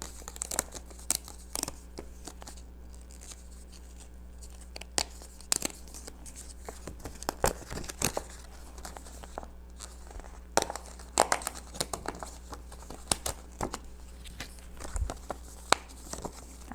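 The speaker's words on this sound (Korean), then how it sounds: "이 6장을 뜯어보도록 할게요" Paper mission cards being torn out of a children's workbook, heard as a close, uneven series of sharp rips and crinkles with short pauses between pulls.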